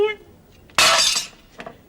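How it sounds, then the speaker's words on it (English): A sudden bright crash of breaking glass bursts out midway, sharp and close, fading within half a second and followed by a faint tinkling of fragments. Brief speech comes just before it. "I can cut glass, I'll tell you."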